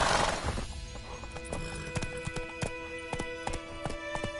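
Roach the horse gallops in The Witcher 3: Wild Hunt, a steady rhythmic clip-clop of hooves, close and distinct, with a rushing swell at the start and a faint musical hum beneath.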